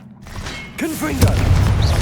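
After a brief near-silence, a voice calls out and a Confringo blasting spell in the Hogwarts Legacy game erupts in a loud boom, followed by sustained rumbling impact noise.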